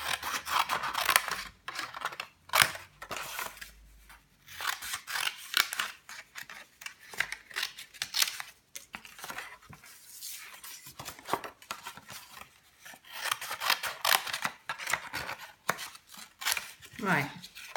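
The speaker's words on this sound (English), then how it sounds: "just cut off about halfway along. Like so, on all four corners" Scissors snipping the corners off a paper gift box, a series of sharp close crunching cuts in irregular bursts with paper rustling and handling between them, no speech.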